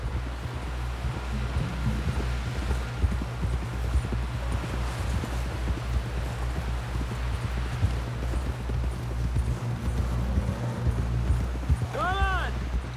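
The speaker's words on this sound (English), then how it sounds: "Someone help John down off this horse." Horse hooves clip-clop steadily in Red Dead Redemption 2, a rider pushing on toward a camp, with wind and ambient game noise around and a voice calling out near the end.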